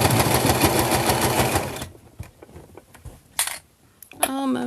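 A sewing machine stitches in a rapid, even rhythmic burst, loud and close, then stops abruptly partway through, followed by quiet handling clicks and a short voice at the end.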